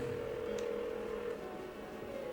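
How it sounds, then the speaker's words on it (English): A steady electronic tone from a phone call in the video game Persona 4, holding at a constant level for about two seconds with a soft background hum, as if a call rings out unanswered. "Why won't she pick up the phone?"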